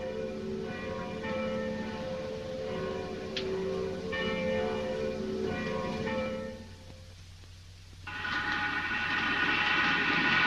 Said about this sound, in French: on entend les cloches de Noël